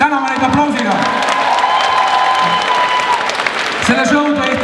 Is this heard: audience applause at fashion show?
yes